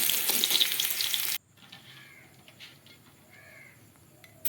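Cut eggs frying in a wok, loud bright sizzling for about a second and a half, then dropping to a faint low crackle with scattered light clinks.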